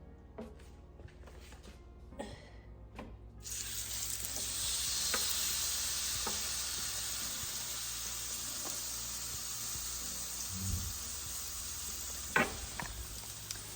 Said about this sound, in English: Now I'm gonna just place it fat backside onto this cast iron skillet I got heated up.